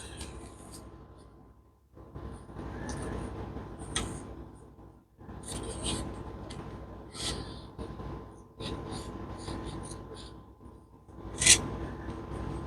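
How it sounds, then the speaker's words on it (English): Scissors fussy-cut a piece of paper up close in a series of quiet snips and slides with short pauses between them, with one brighter snip near the end. "We're going to take this piece and we're going to fussy cut it"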